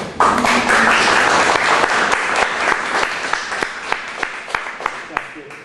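An audience at a seminar applauds, dense clapping at first that thins out into a few scattered, distinct claps as it dies away.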